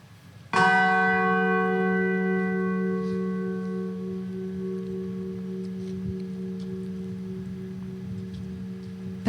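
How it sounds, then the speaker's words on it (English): A single ceremonial bell struck once by the President of Poland at a Warsaw commemoration of the start of World War II, ringing out loud and then humming on in a long, slowly fading resonance, with no talk over it. "ring the bell for the first time"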